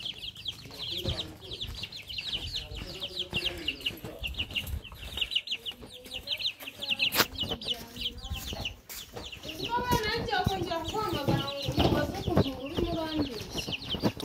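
Chicks and chickens cluck and chirp in repeated bursts, fairly close, while people's voices and other noises mix in around them.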